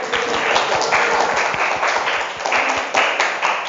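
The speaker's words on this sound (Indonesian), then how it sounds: "Tepuk tangan untuk kita semua." A classroom audience applauds together, a steady loud burst of many hands clapping throughout with no voices breaking through.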